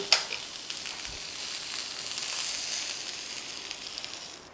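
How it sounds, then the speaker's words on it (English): Food sautéing in a pan with oil, seasoned with pepper and salt, gives a steady soft sizzle with faint crackles and a light stir at the start, close and quiet with no talk. "This you have to saute a little and take it."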